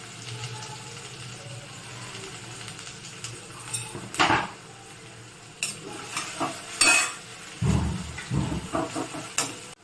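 Onions sizzle softly in a pan as a utensil stirs and scrapes, with several sharp metallic clanks against the cookware.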